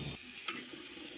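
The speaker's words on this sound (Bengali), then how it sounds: "ওই তেলে এলাচ, লবঙ্গ, দারুচিনি ফোড়ন দিয়ে চালটা ভালো করে ভেজে নিচ্ছি" Basmati rice fries in hot oil with cardamom, cloves and cinnamon for pulao, giving a soft, steady sizzle with a light stir or scrape in the middle.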